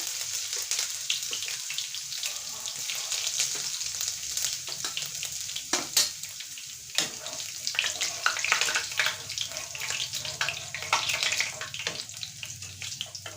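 Ginger and garlic paste frying in hot oil for a green pea pickle, a continuous close crackling sizzle with scattered sharper pops and clicks throughout, no voices.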